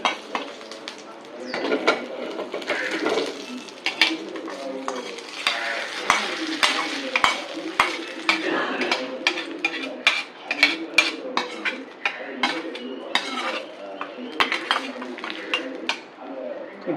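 Hot tempering is tipped into a boiling pot, followed by a busy stretch of clinking metal spoon against the pan, scraping and stirring close by, with light sizzling underneath.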